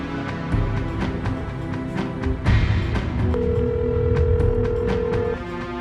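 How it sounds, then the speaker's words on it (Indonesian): A telephone call placed to a youth rehabilitation center in Jakarta: a steady ringback tone sounds for about two seconds over busy background music and noise. "Aku coba telepon deh."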